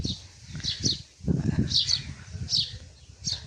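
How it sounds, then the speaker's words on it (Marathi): Short, high bird chirps repeat at intervals under people talking nearby, with a quiet outdoor background at Kolaba Fort, Alibag. "आणि ते पक्ष्यांचा आवाज,"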